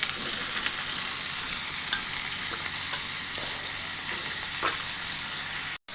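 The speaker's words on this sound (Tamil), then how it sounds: "வெங்காயத்தை நல்லா வதக்கிக்கலாங்க." Chopped onions frying with ginger-garlic paste and cumin in a hot pan, a steady close sizzle with scraping stir strokes throughout, cut off abruptly near the end.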